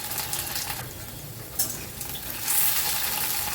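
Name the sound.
potato pieces frying and being stirred in a pan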